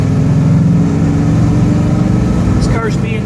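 A 1969 Pontiac GTO engine runs steadily with a deep, throbbing low rumble that stays loud throughout, with a brief rise in pitch near the end and a faint voice or whistle-like tone over it.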